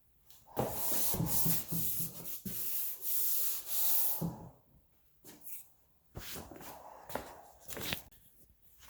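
Sandpaper rubs across a Honda Civic EF rear bumper that has been filled over dings. Steady, close scratchy strokes run for several seconds, then break into shorter separate passes, with no talking.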